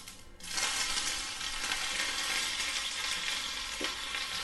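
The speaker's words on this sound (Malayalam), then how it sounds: "കടുക് പൊട്ടിത്തുടങ്ങി" Mustard seeds spluttering in hot oil in a pan while tempering for shallot chutney, a loud, continuous sizzle with dense crackling pops, close up and without talk.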